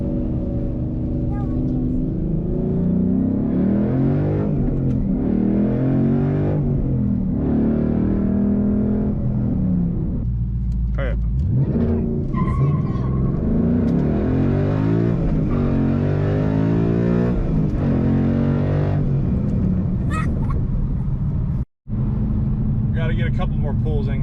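A 2019 Shelby GT350 Mustang accelerates hard on a rainy day, its engine roaring loudly through several rising pulls that climb in pitch, with brief lulls between them and one sharp dropout near the end.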